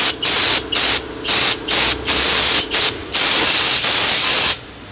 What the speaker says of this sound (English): Some brake cleaner, I'm saying.